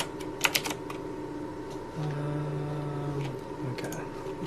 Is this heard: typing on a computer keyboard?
yes